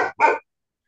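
A pet dog barks twice in quick succession, close and fairly loud, followed by silence.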